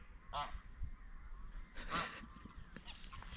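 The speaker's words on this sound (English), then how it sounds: "these geese are shouting into my vlog" Geese honk in a few loud, separate calls near a beach, with the cries coming close and standing out against steady outdoor background noise.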